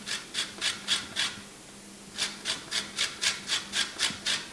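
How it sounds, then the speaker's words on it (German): Fresh peel of an organic lemon grated over a bowl of yogurt: a run of about five quick, raspy scraping strokes, a short pause, then nine more in a steady rhythm, close and clear with no talking. "da reibt man ein bisschen Zitrone rein"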